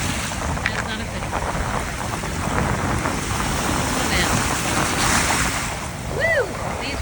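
Lake Huron waves wash onto a rocky Northern Michigan shore in cold fall wind, a loud continuous roar of surf and gusts with a brief high bird call near the end.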